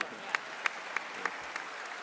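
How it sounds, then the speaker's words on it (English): Applause from a convention panel audience in a hotel ballroom, a scattered patter of clapping with a few sharp louder claps, heard at a moderate distance and fading slightly toward the end. "Still clap for him."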